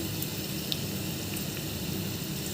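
Curry leaves drop into a sizzling tempering of mustard seeds, garlic, onion and dried chillies for spinach dal, giving an even, continuous hiss of frying oil with faint crackles.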